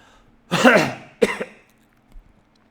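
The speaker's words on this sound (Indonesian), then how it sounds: "Sorry, batuk lagi." A man coughs twice in quick succession, close and sharp, followed by a faint small throat sound in an otherwise quiet room.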